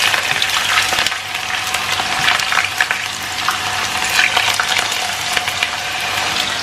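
Sliced potatoes deep-frying in oil for an Arab rice dish, a sustained crackling sizzle with frequent sharp spits and pops, heard up close without speech.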